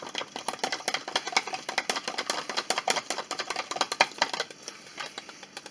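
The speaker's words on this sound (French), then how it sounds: "Et là, je vais mélanger." Ingredients, including a level spoonful of chicken stock powder for a turkey stew, are stirred briskly in a bowl, giving rapid, evenly spaced clicking taps of utensil against the bowl's sides, close and continuous.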